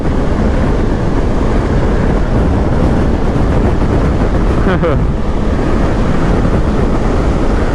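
Heavy wind roars and buffets steadily against a rider on a BMW R1300GS motorcycle on an open road, a loud, continuous rushing that fills the whole stretch.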